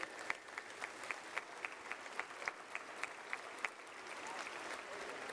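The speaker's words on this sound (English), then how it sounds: "There, you can applaud." Applause at the DEF CON 32 closing ceremony in a large hall. Scattered claps ring out distinctly over a soft crowd wash at moderate distance, then blur into a smoother, quieter patter toward the end.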